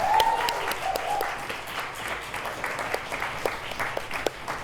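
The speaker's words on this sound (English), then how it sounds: "I'm now going to make a mental note to let people clap before I go on" Audience applause at an awards ceremony, a sustained wash of many hands clapping in a large room, steady and fairly loud before tapering slightly.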